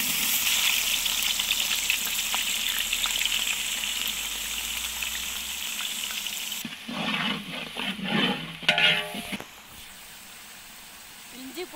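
Onions frying in hot oil for brinjal biryani, a loud steady sizzle that drops off partway, then a few clattering stirs and scrapes in the pan before a quieter tail.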